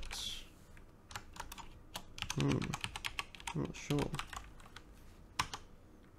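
Computer keyboard keys pressed to set up player controls for the shareware game Arcade Volleyball, a series of sharp clacking taps in irregular bursts, close and clear, with a brief spoken remark over them.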